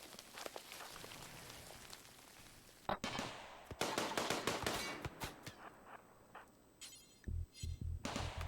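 Rapid turret gunfire in a video game, dense crackling bursts that run for several seconds, break off, then return in a stuttering volley, with a faint tone and low thumps near the end.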